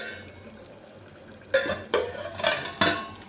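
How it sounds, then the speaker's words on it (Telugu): A spoon stirs tomato moong dal curry in a pot on the stove, a quiet simmer followed by several sharp scraping, clinking strokes close by. "కలబెడుతూ ఉన్నామంటే అడుగు కూడా మాడకుండా ఉంటుంది."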